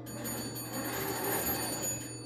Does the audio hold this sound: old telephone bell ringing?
yes